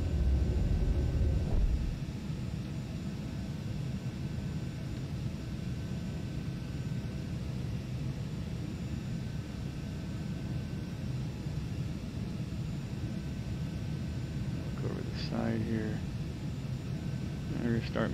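Cessna Citation C550 business jet climbing just after takeoff in a flight simulator, a steady broad jet roar with a louder burst at the start, continuous throughout, with brief radio-like voice sounds near the end.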